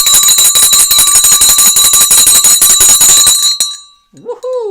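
The stock market closing bell rings in a loud, rapid, continuous electric clatter for about three and a half seconds, then stops abruptly, followed by a brief vocal exclamation.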